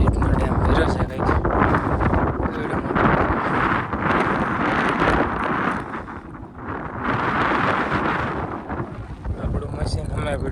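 Strong wind buffeting the microphone beside a full dam, a loud continuous roar with gusting swells throughout.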